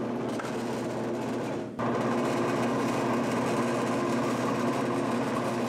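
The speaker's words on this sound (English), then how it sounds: "Next, run some empty new frames through the uncapper." The motor of a Lyson 40-frame mini line uncapper runs with a steady mechanical drone and hum. It dips briefly once, then continues evenly and fairly close, with no voices.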